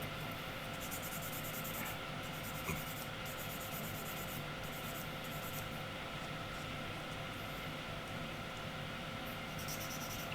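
A sanding stick rubbed over a plastic model part to remove a mark, producing a continuous, even scraping hiss that runs steadily throughout at moderate volume.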